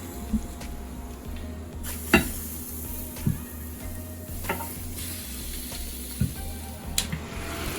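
Steady sizzling of chicken frying on a hot electric grill, with a few light clinks of utensils scattered throughout.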